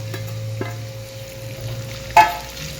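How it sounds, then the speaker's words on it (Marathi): Onion, garlic and ginger sautéing in a pan for a village-style brinjal curry: a steady, low sizzle with a brief louder stir or scrape near the end, no voices. "त्याला पण चांगलं परतून घेऊया"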